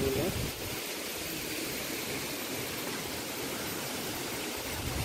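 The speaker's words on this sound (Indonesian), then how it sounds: "Nah ini kenceng ya, kenceng banget anginnya." Strong wind gusting through a rural village, a dense continuous roar and rush filling the whole clip at steady loudness, with no clear talk heard.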